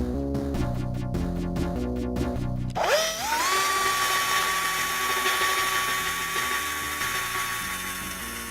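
Power drill boring into a metal shelf rolling cart: a rapid rhythmic chattering burst, then a sharp spin-up into a steady high whine that holds for several seconds, close and loud with no talking.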